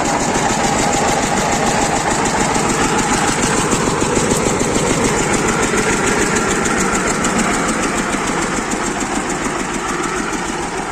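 A DT-20 tractor engine idles nearby, a quiet, steady rhythmic chugging with a fast, even knock that holds for the whole stretch.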